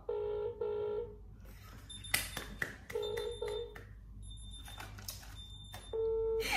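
A phone call placed to Qatar rings through with repeated electronic tone bursts separated by short pauses, clear and close, with scattered clatter and noise between the tones.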